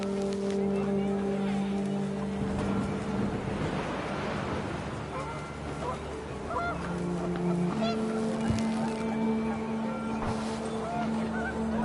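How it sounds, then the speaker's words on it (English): Panicked geese honk in a video game as wind picks up, a cluster of overlapping honks and calls over a steady gusty rush that carries on for several seconds. "The wind picked up, and panicked geese appeared and quickly went."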